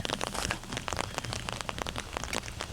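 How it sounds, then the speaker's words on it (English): Rain falls steadily on a disc golf course in Mississippi, a dense, continuous patter of close drops with no voices. "And the rain is back."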